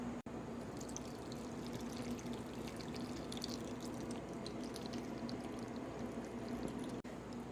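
Salt water brine for fermented hot sauce pours steadily into a jar, making a soft, continuous trickling and filling sound with a faint bubbly texture, quiet and close.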